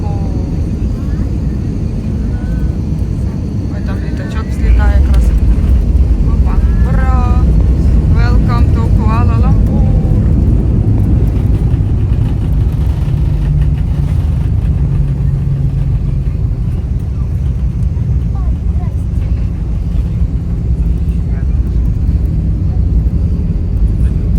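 Airplane landing, a loud, steady roar of engine and rushing air heard from inside the cabin, with an announcement and passengers talking over it.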